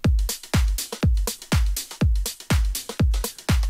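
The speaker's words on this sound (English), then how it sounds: "The drums sound like this soloed" Soloed electronic drums from a pop song drop: a booming kick with layered claps and hi-hats. They pound in a steady four-on-the-floor pulse, loud and punchy, with no voices.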